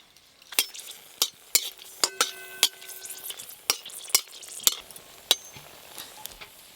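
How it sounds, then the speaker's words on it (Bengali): Dried red chillies fry in mustard oil in a kadai under a soft steady sizzle, while a utensil stirs with a dozen or so sharp metallic clinks and scrapes at an irregular pace, close and clear. "এই লঙ্কাগুলো ভেজে নেব।"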